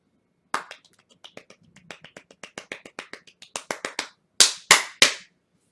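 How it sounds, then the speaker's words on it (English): A short burst of hand clapping, about a dozen sharp claps in an uneven, speeding rhythm that ends in three loud, close slaps, with no talk over them. "A round of applause for me"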